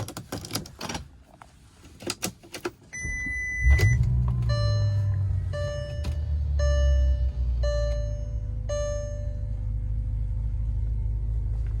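A Bentley car starting up and driving off, with a few clicks and mechanical sounds from inside the cabin before a steady low engine rumble and drone that holds for several seconds, close and fairly loud, with no talk.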